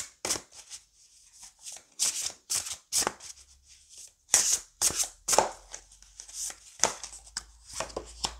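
Tarot cards are shuffled in quick bursts of crisp riffling and slapping, close and fairly quiet, ending as a single card is drawn; no one speaks.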